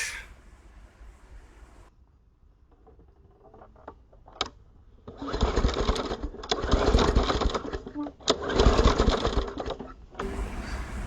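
Engine of a Murray 11A-A1BF758 scrapyard lawn mower being pulled over for a spark test, a loud rapid chugging and whirring in several bursts after quiet handling noises, with brief pauses between pulls.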